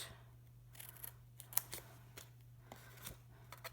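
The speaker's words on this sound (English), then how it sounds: "I'm just going to come in with a pair of paper snips" Paper snips trimming the twine around a small tassel on a handmade graduation cap, giving a few faint, scattered snips and clicks over a low hum in a quiet room.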